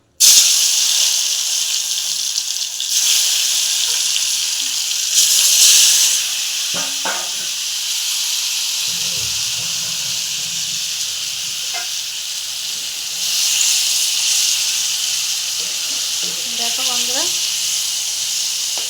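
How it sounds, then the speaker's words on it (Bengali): Paneer pieces coated in spices fry in hot oil in a wok, giving a loud, continuous sizzle and hiss across the whole stretch, with occasional clinks and scrapes and brief faint voice sounds. "এবার ভালো করে ভেজে নেব"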